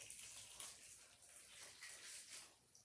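Fidget toys rinsed under running tap water, a steady soft gush with faint splashing throughout, quiet and close, no talking.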